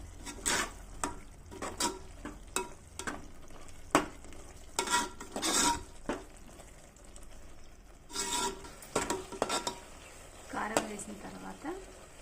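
A masala curry base with chili powder frying in a pan for ridgeless gourd and soya chunk curry, heard as a low sizzle broken by repeated sharp spatula scrapes and stirring strokes in an uneven rhythm.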